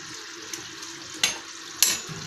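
Fenugreek seeds fry in hot oil for tempering, giving a soft, steady sizzle close by, broken by two or three sharp pops or clinks near the end, with no talk.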